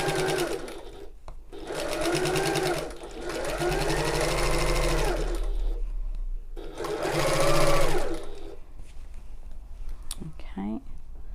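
Sewing machine stitches the side seam of a tote bag in several runs that stop and restart, close and clear, while someone talks softly over the machine.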